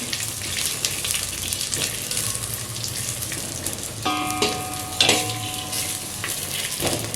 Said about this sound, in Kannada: ಒಂದು 2 ಮಿನಿಟ್ಸ್ ಫ್ರೈ ಮಾಡ್ಕೊಳ್ಳೋಣ.